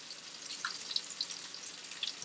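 Large steaks frying in a frying pan give a quiet, steady sizzle with a few brief crackles and pops, heard close with no voices.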